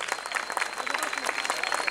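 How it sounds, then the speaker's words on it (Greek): Audience applause at a Chestnut Day festival event, a crowd clapping in quick, dense, even bursts, close and fairly loud. "Ένα χειροκρότημα γιατί μετά από 2 χρόνια είμαστε εδώ."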